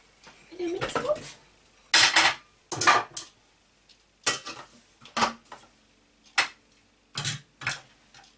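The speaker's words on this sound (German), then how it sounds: "Nun fügen wir eine Zwiebel in den Mixtopf." A whole onion drops into a Thermomix TM31 or TM5 mixing bowl while cauliflower soup is prepared, giving a series of short, separate knocks and clatters against the bowl, moderately close and fairly quiet.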